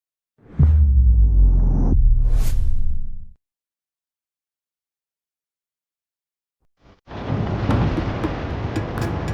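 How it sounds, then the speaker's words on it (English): An approaching thunderstorm in a Nintendo Switch 2 adventure game trailer opens with a loud, deep rolling rumble lasting a few seconds, falls to silence, then returns as a steady, dense roar like heavy wind and rain. "A storm is approaching."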